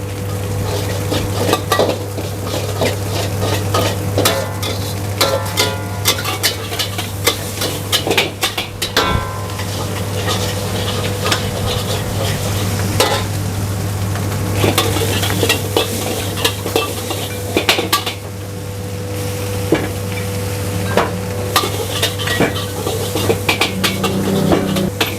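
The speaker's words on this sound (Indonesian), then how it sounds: "Mudah banget bikin nasi goreng Singapura" Singapore fried rice stir-fried in a pan with fish sauce, sesame oil and butter, a continuous loud sizzle under rapid, repeated metallic scraping and clanking of a utensil against the pan, close up and without speech.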